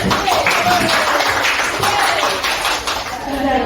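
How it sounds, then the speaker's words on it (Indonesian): Classmates in a school lesson clap for the top-ranked students, a short burst of applause mixed with room noise and a voice speaking over it. "tepuk tangan semuanya"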